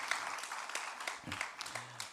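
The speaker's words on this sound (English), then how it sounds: "Let's give one last round of applause" Audience clapping for musicians at a morning Indian classical music concert and book launch, fairly faint and thin with scattered individual claps, dying away quickly.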